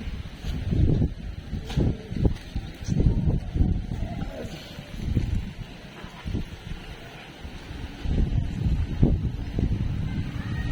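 Strong wind buffets the microphone in low, rumbling gusts that rise and fall throughout, loud and close.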